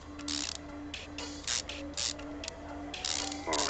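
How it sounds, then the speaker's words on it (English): Lug nuts on a wheel being tightened in the Car Mechanic Simulator 2015 video game, a quick series of mechanical ratcheting bursts over a steady hum. "don't forget to tighten the lug nuts"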